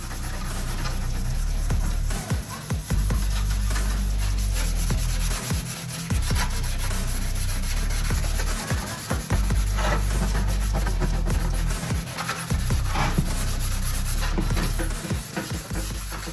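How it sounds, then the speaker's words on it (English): Clear coat on a car grille for a 2006-10 Charger is sanded by hand, giving close, continuous scratchy rubbing strokes in uneven bursts with brief pauses between passes. "you still need to sand a little bit more right there"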